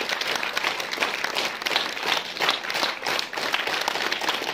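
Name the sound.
audience applause during a school award ceremony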